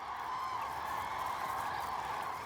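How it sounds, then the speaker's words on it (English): Cranes calling in Berit National Park, Germany, a steady dense chorus of honking bird cries heard at a distance without pause, with no speech. "The cranes in Berit National Park have now successfully reared their young, and now join the migratory birds from Scandinavia."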